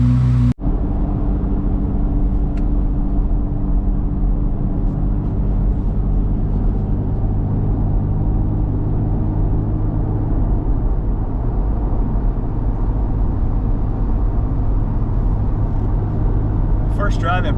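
A Chevrolet Corvette C8 Z06 is driven at a steady pace, its engine producing a continuous, loud, close drone with road rumble that stays constant throughout, heard from inside the car.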